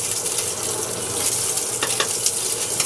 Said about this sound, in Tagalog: Ganyan ako magprito